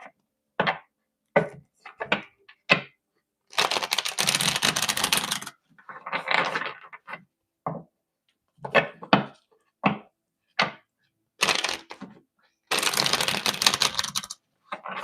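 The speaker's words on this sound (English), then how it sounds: "Let me shuffle some cards here." A deck of cards is shuffled close by: two longer riffling bursts mixed with many short taps and snaps as the cards are squared and handled, with pauses in between.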